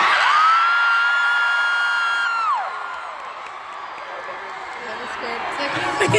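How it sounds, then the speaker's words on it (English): A large concert crowd at a TWICE world tour show in Atlanta cheers and screams in a sustained high-pitched roar, loud at first then easing back before swelling again. "your voices and cheers are legendary tonight."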